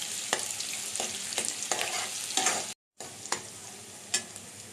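Raw prawns frying in oil while a spoon stirs them, with a steady close sizzle punctuated by sharp scrapes and taps against the pan. A brief silent gap falls midway, and no one speaks.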